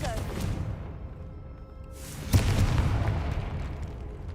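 A Confringo blasting spell explosion in Hogwarts Legacy, a sudden booming burst after a quieter stretch, followed by a rumbling tail.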